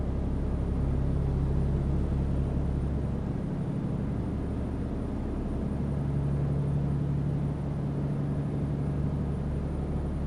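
Rush-hour cars roll along a road in a steady, dense rumble of engines and tyres that holds an even level throughout, with no clear surge of acceleration.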